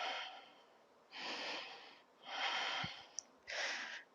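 Deep, audible breaths during a yoga stretch come in three or four slow, airy cycles, close by and soft, with brief quiet pauses between them.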